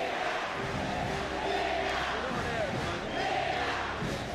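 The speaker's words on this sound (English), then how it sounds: "Chants were ringing out across the stadium." Stadium crowd at an Olympic badminton match chanting steadily in rhythmic, swelling waves, a dense roar of many voices filling the whole clip without pause.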